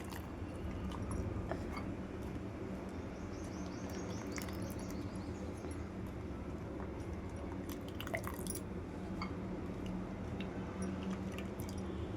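Water drips and trickles in irregular drops close by as food soaked in hot water is drained, with soft squishy sounds and no talking.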